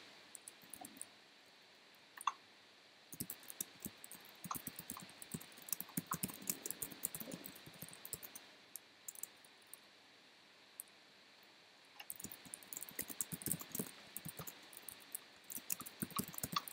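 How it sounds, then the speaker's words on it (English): Computer keyboard typing in bursts of quick, close clicks, pausing for a few seconds midway and then resuming at a steady pace, with no voices. "Still typing awkwardly."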